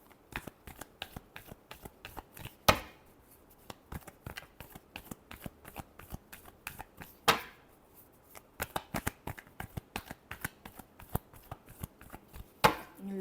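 Tarot cards are shuffled by hand in a quiet room, giving a fast patter of soft flicks and slaps with a few louder riffle bursts, close and continuous, with no talk over it.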